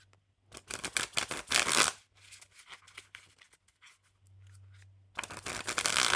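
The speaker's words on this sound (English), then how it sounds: "these cards are going to hurt to shuffle" Reproduction playing cards being handled and shuffled up close, with bursts of riffling and crisp card-flicking separated by quieter pauses, faint and alone without any talking.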